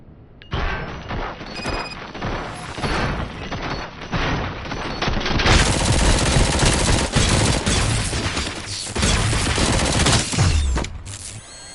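Sustained gunfire and heavy bursts in the shooter RoboCop: Rogue City, loud rapid volleys with booms and mechanical clatter filling the whole stretch, growing denser midway.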